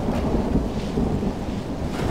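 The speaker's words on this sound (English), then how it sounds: "You can tell the rain is definitely having an effect." Thunderstorm rain in a Total War mod battle: dense, steady downpour hiss with deep rolling thunder underneath, loud and unbroken throughout, no voices.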